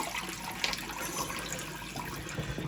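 Water gushes from an old domestic hot water tap, a loud, steady rushing and splashing that fills the whole stretch without pause and with no talk.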